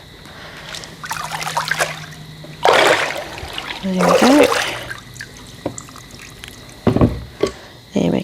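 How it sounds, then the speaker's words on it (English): Excess beeswax dripping off a foundation sheet back into a water bath, splashy trickles and drips in several bursts, with a person briefly speaking. "Let the excess wax drip off."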